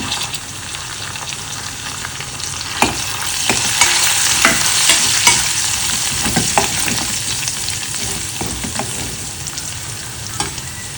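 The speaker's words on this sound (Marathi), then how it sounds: "आता मी याच्यामध्ये कडीपत्ते घालते" Curry leaves hit hot oil with browned garlic, giving a loud, dense crackling sizzle with scattered sharp pops and clicks of stirring that builds and holds steady throughout.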